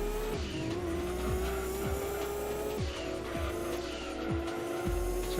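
A race car in Gran Turismo 2 roars at high revs in a steady, loud engine drone, with repeated quick gear-shift dips and a thin tire squeal running underneath, and no talking.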